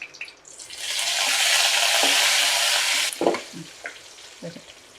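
Mustard seeds, urad dal and fresh curry leaves crackle in hot oil for a chickpea masala sundal: a loud, dense sizzle bursts up, holds for about two seconds, then drops to a quieter spluttering with a few sharp pops.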